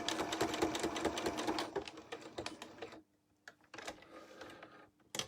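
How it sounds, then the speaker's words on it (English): A sewing machine runs steadily forward in a fast, even whir of stitching, stops briefly, then runs again in shorter back-stitch bursts. The sound is close and fairly quiet. "I'm going to sew forwards and then back stitch"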